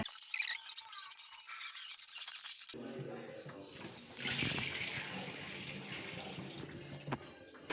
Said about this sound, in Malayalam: ആദ്യം നമുക്ക് 2 നാഴി അരി വെള്ളത്തിൽ ഇട്ട് കഴുകി ചോറിനുള്ളത് ഞാൻ എടുത്ത് വെക്കാൻ പോവേണേ